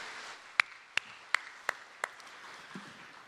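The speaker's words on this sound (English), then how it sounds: "Let's give them a big round of applause." At a graduation ceremony, five sparse claps ring out at a steady, deliberate pace, faint and thin against a quiet room.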